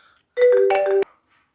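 A mobile phone ringtone sounds as the manager calls, a short electronic melody of a few stepped tones lasting under a second, fairly clear against a quiet room.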